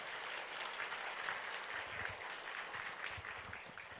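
A church congregation claps together after a sermon by missionary Michael Cho, a dense, continuous wash of applause that tapers off slightly toward the end.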